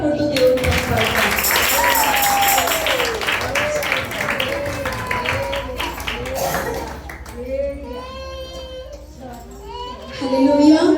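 A church congregation at a women's Christian worship festival claps along in rhythm beneath loud singing and music, the clapping steady and crowd-like.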